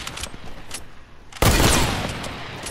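AK rifle gunfire in an online shooter game: after a quiet stretch of faint background noise, a sudden loud burst of shots hits and rings out densely for more than a second with no talk over it.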